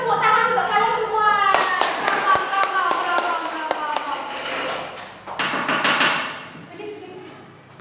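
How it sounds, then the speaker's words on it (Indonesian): A classroom of students claps in scattered, uneven bursts during a lesson, with sharp taps and thuds mixed among children's voices and chatter, tapering off near the end. "Ya, tepuk tangan untuk kalian semua."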